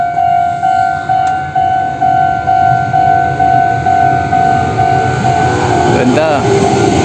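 A train passes close by, a loud rumbling roar with a steady horn-like tone and rhythmic wheel beats, while people talk over it.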